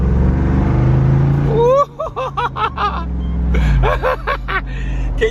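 The 392 V8 HEMI of a 2021 Jeep Wrangler Rubicon rumbles deep and loud close by, while a person exclaims and laughs over the engine.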